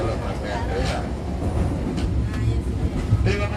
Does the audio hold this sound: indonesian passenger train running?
yes